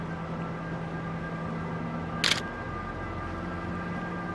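A single camera shutter fires once at 1/250 second, a short crisp click standing alone over a steady quiet background hum, with a Kaleinar 100mm or Nikon 105mm Pre-AiS lens mounted.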